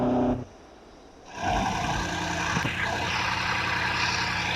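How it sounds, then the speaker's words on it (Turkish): A Bugatti engine in the mobile game Car Parking Multiplayer drones with a strong harmonic tone, briefly cuts to a quieter lull, then surges back and holds a loud, steady rev. "Hemen Bugatti'nin sesini göstereceğim."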